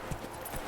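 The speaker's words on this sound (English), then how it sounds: "Please don't scare my horse." A horse's hooves clip-clop in a steady, fairly quiet rhythm in The Witcher 3, a brief run of soft hoofbeats with faint background ambience.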